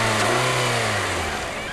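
A Nissan Altima's 2.5-litre four-cylinder engine revs up loudly for a moment, then its pitch sags as it eases off, close and steady.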